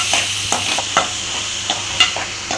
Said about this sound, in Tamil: இப்போ நல்லா வதங்கிக்கிறோம்